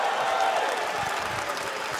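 An audience claps at the Summer Game Fest gaming showcase, a steady patter of applause at moderate distance that carries through the whole moment.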